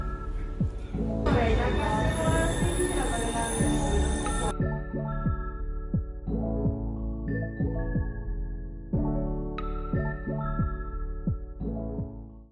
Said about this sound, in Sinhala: අපි ඩ්‍රයිවර් නැතුව මෙට්‍රෝ එක පෙන්නන්නේ